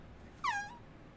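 A person imitating an air horn with their mouth: one short, bright, blaring honk with a slight downward bend, heard alone against quiet background.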